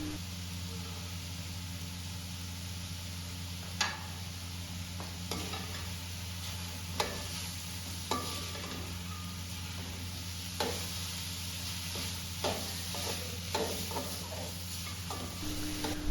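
Capsicum and chopped cabbage are stir-fried in a pan for village-style spaghetti, a continuous hiss with a low steady hum beneath it and occasional scraping stirs and knocks.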